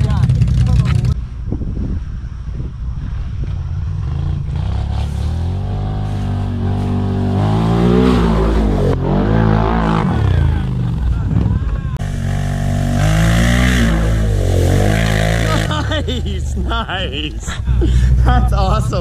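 A 2020 Can-Am Renegade XMR 1000R ATV engine revs hard under throttle, its loud pitch climbing and falling through repeated surges close by, with people talking over it.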